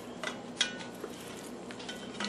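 Wild rice soup being stirred in a pot, with a spoon scraping and clinking faintly against the metal over a steady background hiss, without any talking.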